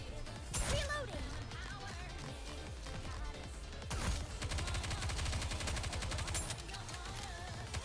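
Rapid gunfire in Goddess of Victory, a game battle: dense rattling bursts of automatic shots with crashes, loud and continuous, pausing briefly before another sustained volley.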